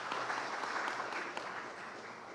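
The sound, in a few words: audience applause for conference speakers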